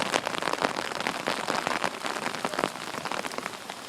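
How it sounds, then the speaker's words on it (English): Heavy pouring rain drums on surfaces close by, a dense crackling patter with sharper splashy bursts, loud and continuous with no voices. "But it is pouring rain right now, so there's that."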